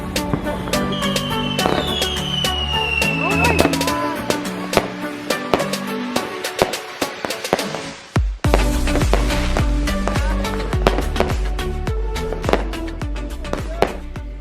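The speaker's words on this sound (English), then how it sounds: "did you see me light the fireworks for the first time?" New Year fireworks are set off in a street, giving rapid sharp cracks and pops, a descending whistle early on and one heavy, deep boom midway, followed by dense continued crackling.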